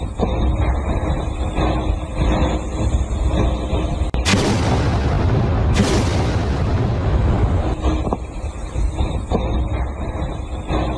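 News footage of the SBU headquarters in Kyiv being blown up carries a loud, sustained rumbling roar of blasts, with a harsher broadband burst in the middle before the rumble settles back, and no voices.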